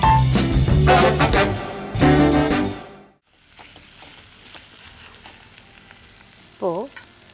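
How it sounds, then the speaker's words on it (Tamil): Potatoes are stirred and fried in a pan on a television cooking show: a loud burst opens, then a quieter steady sizzle carries on, with a short high chirp near the end and no talking. "20 செகண்ட் வதக்கினோடனே நம்ம இதை உருளைக்கிழங்கை போட்டுடலாம். இதை கிளறிட்டு இருக்கும்போதே இது ஒரு தடவை தொலாவி விட்டுடலாம்."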